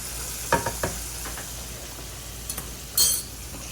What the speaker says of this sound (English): So it's frying.